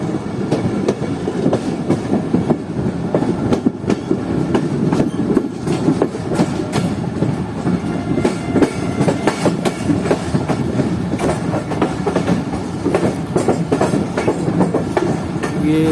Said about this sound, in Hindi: रहीम मियां खान रेलवे स्टेशन पर अप्रोच बना रही हमारी ट्रेन